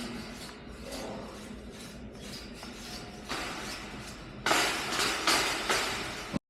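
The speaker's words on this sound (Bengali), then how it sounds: "সিটটার তো কোনো রকমের ঝাড়ু দিয়ে ঘষে ঘষে পরিষ্কার করলাম।" A broom scrubs back and forth over a bed sheet, a rough, continuous rasping close by that grows louder and more forceful in repeated strokes toward the end before cutting off abruptly.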